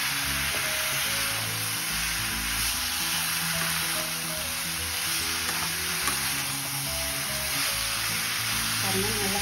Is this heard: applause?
no